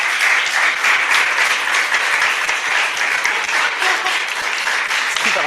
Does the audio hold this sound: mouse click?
no